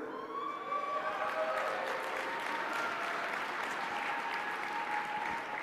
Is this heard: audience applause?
yes